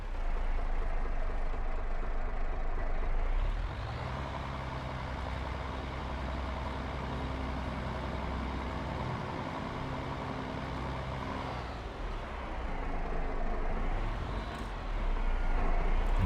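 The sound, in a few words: tractor engine pulling a plow, video game Farming Simulator 22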